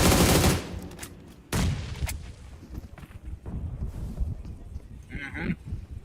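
Bursts of gunfire in a PUBG Mobile esports match at the 2026 PMNC Sri Lanka national finals, with loud shots at the start and around one and a half seconds, then scattered quieter fire and game noise.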